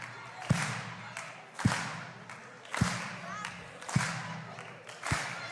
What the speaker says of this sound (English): Everybody clap your hands. Clap, clap, like this.